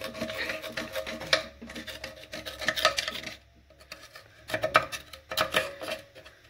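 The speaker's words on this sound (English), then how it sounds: "Getting all the grime out." TH350 transmission parts are scrubbed clean of grime, giving close, rasping strokes that come in bursts, with short quiet pauses between them.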